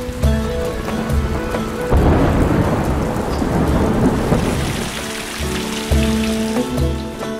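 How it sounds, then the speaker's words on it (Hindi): Heavy rainstorm over Lahore, a steady loud hiss of downpour on surfaces with a deep rumble of thunder swelling through the middle, accompanied by a sustained tonal background, and no one speaking. "लाहौर में एक बार फिर से अब्र रहमत आज खुल के बरसा।"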